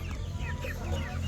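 A six-month-old gamecock clucks softly in a low continuous stream, close by, with faint bird chirps in the background and no talk.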